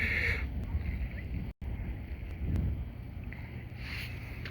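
Wind gusting across the microphone outdoors while a Fimi X8 SE drone flies back toward its home point, a steady broadband rumble that stays fairly constant apart from one very brief dropout partway through.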